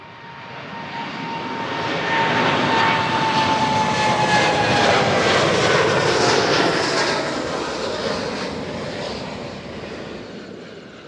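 Air Canada jet airliner on the runway at Toronto Pearson airport roars as it passes, swelling from quiet to a loud broad engine rush with a whining tone, then fading away over about eleven seconds.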